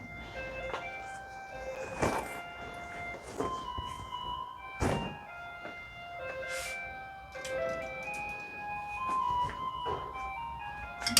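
A garbage truck on its scheduled round plays a bright, tinkling melody that rings out clearly, note after note, with a few thunks and soft background sounds in between.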